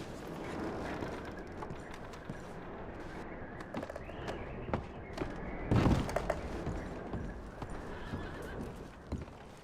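Horses in the Red Dead Redemption 2 video game, a loud neigh and whinny amid clip-clopping hooves and thuds in an outdoor camp, heard close.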